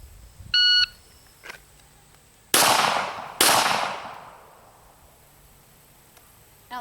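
Two loud, sharp rifle shots fired after fitting an Armory Craft dual adjustable trigger, spaced about a second apart, each ringing out with a long echoing tail, preceded by a short electronic beep.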